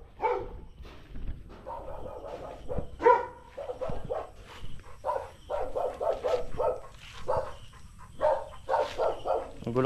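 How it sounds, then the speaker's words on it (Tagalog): A dog barks repeatedly in short bursts throughout, fairly close and moderately loud, with some yips mixed in and a few human voices faintly audible underneath. "Magulo kasi ng aso."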